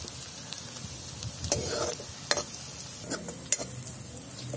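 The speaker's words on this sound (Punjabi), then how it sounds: "ਪਿਆਜ਼ ਜਿਹੜਾ ਸਾਡਾ ਅੱਗੇ ਨਾਲ ਥੋੜ੍ਹਾ ਜਿਹਾ ਭੁੰਨ ਹੋ ਗਿਆ ਹੈ" Onions roasting in a pan for an aloo shimla mirch dish, a soft steady sizzle with a few sharp clinks and scrapes as a spoon stirs them, close and without speech.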